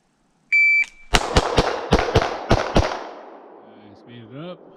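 Pistol gunshots at close-quarter shooting training, a timer beep followed by seven sharp, loud, evenly spaced shots fired in a quick string, then a fading echo with faint voices at the end.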